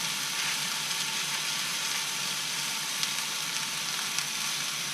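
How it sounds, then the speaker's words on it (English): A pork chop sears in a hot pan, giving a steady, close, bright sizzle that continues without pause, with a few tiny pops crackling through it. "you just have to give it a little gentle push to make sure it's touching the pan."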